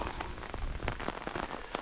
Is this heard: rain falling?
yes